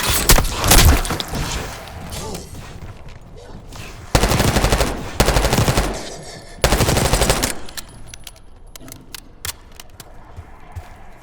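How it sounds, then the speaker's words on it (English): Loud bursts of rapid gunfire in Call of Duty Black Ops 6, several volleys separated by quieter, rumbling stretches. "You hearing gunfire?"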